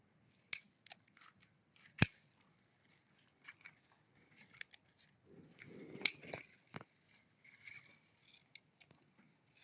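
Quiet, sparse snips of scissors cutting string beans in a garden, with scattered crisp clicks and a soft crunchy patch, close by and otherwise near silent.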